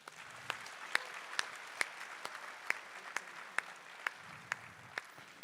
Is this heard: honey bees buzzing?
no